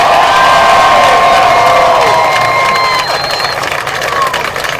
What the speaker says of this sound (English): So let's give my dad a real big round of applause.